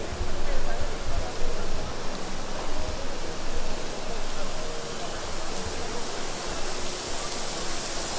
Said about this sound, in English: this is the Waterfall Garden